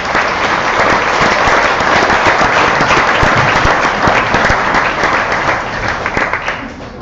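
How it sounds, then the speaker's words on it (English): Sustained applause from an audience at a school exhibition welcoming two presenters, a dense, steady wash of many hands clapping for about seven seconds, tapering slightly at the end. "Round of applause for them, please"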